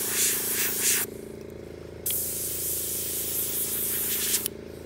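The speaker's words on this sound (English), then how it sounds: "That's the air compressor." A small air compressor runs with a low steady hum beneath loud bursts of hissing spray while alcohol ink is blown around for painting, the hiss cutting in and out.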